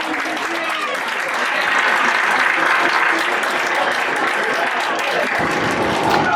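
Applause rises from both benches and spectators at an Under 17 elite youth football play-off, loud sustained clapping that swells slightly after the opening second and continues steadily, with crowd noise beneath it.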